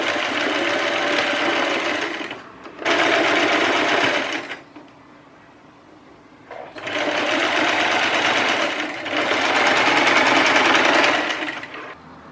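Close and loud, a sewing machine stitches elastic into the sleeve seam of a Regency-style wedding dress sewn from curtain fabric, running in steady rapid bursts with a brief pause and a longer stop in the middle.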